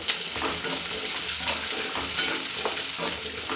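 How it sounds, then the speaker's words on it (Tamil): Small onions sautéing in a pan with green chilli for idli sambar, a steady close sizzle with scraping stir strokes throughout, no talk. "இப்போ வெங்காயம் நல்லா வதங்கட்டும்."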